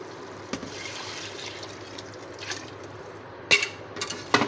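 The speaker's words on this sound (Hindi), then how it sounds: "अब हम इसमें 3 गिलास पानी के शामिल करेंगे" Water poured into a cooking pot of browned meat for bhindi gosht, a soft liquid trickle and splash running under room noise, with brief louder splashes near the end.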